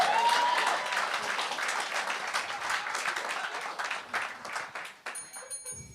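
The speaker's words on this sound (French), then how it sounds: "ça mérite un applaudissement" An audience at a comedy game show breaks into loud, dense applause that holds steady for about five seconds, then thins out and stops.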